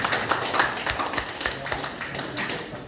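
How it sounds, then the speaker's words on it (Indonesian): Applause from a crowd welcoming newly inaugurated organisation officials at a formal ceremony in Aceh, a steady dense patter of many hands clapping throughout, moderately loud and close, with no talk over it. "Tepuk tangan untuk para pengurus."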